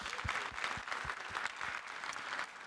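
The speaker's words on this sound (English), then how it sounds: "Big round of applause." Audience applause at a WordCamp conference keynote, a steady wash of many hands clapping at moderate distance, with a few louder claps standing out near the front.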